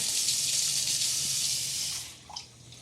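Water runs steadily from a tap for about two seconds, a close, broadband rushing hiss, then stops, leaving a faint drip or clink.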